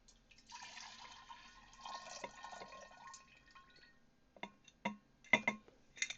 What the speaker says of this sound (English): I take said water. I put it into the jar.